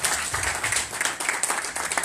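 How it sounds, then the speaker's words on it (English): Church congregation clapping at a worship gathering in Vienna, Austria, with quick, fairly rhythmic hand claps repeating throughout and some low background sound underneath. "Somebody clap for my Jesus."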